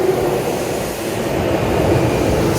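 An orange commuter train runs through Tokyo toward Ochanomizu, a steady loud rumble and rush of wheels and motors heard from onboard, continuous with no pauses.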